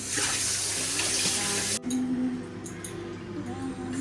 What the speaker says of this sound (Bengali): চলো গ্যাস ট্যাসগুলো ধুই